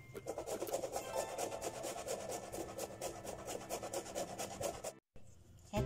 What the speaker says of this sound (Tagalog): natapos na po natin kayurin yung ating kasaba